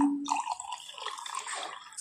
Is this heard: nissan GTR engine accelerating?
no